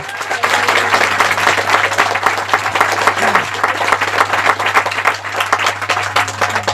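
A congregation at a Quechua-language evangelical fasting service applauds for the Lord with loud, continuous, rhythmic clapping over a steady low hum.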